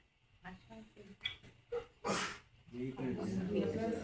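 A single sharp sneeze erupts after some quiet speech, then talking resumes close to the microphone.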